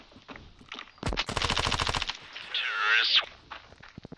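Gunfire in the mobile shooter game Standoff 2: a sharp shot followed by a rapid burst of automatic fire for about a second, then a scraping, whooshing game effect and scattered faint clicks.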